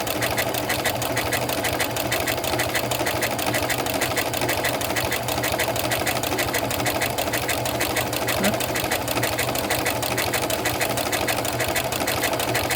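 Sewing machine stitching an applique shape with matching thread, a steady close whirring hum with fast regular needle ticks running continuously and loud throughout.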